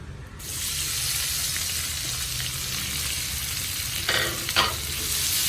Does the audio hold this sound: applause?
no